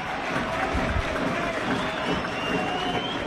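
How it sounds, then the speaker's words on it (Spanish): Home supporters at a Spanish lower-league football match between UD Los Barrios and AD Ceuta FC give a broad, steady roar of crowd noise mixed with scattered applause, with a commentator talking over the stadium din. "Aplaude la parroquia local."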